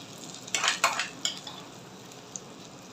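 Rava pizza batter cooking in a pan over a medium flame, with a soft steady sizzle and a few brief stirring or scraping touches near the start, no voices.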